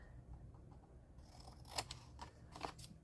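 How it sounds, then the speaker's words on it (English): Scissors snip through paper, cutting off triangles in a few quick, close crunchy cuts after a quiet start. "We cut those triangles off."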